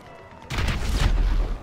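A motorbike blows up in Grand Theft Auto Online, a sudden loud explosive blast after a quiet moment, followed by a sustained roaring, crackling rumble that fades slightly at the end.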